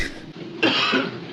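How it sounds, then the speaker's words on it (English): A person coughs once in the 1964 Doctor Who serial The Reign of Terror, a brief rough burst rising sharply after a faint breath, close and alone. "Why does Ian keep coughing?"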